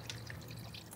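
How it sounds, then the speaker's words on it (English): Water drains out of a car gearbox after the drive shaft is pulled, a faint, short trickle with soft splashing and dripping. "The gearbox is full of water."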